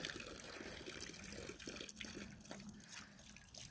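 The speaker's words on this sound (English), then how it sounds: "Coco, you like running water." Water runs from a tap in a steady, close trickle, with small splashes and drips over a constant low hiss and no talking.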